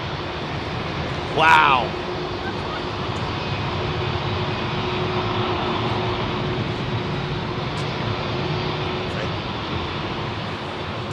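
A jet airliner touching down at London Heathrow Airport on New Year's Day, its broad engine roar steady and fairly loud throughout, with one man briefly exclaiming early on.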